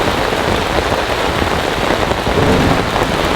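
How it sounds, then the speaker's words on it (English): Heavy rain pours steadily in a dense, even roar at a campsite, with a low rumble of thunder rolling underneath and no voices. "We are surrounded by thunderstorms. There's just thunder and lightning everywhere."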